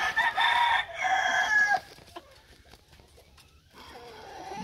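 A rooster crows loudly twice close by, followed by scattered soft clucks and rustling, then a quieter drawn-out crow-like call at the end.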